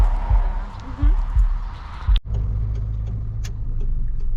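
A car drives along the road, heard from inside as a steady low rumble of engine and tyres, with a few thumps and a brief cut-out partway through, and a voice speaks briefly over it.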